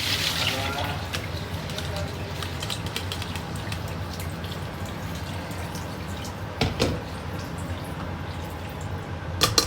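Water drains steadily from freshly rinsed rice into a sink, a continuous wet trickle with a few louder splashes near the end.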